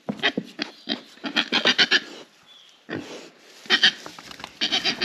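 Young pigs, about ten weeks old, grunt and snuffle on a small farm in rapid close bursts, with a brief pause midway before the grunting resumes.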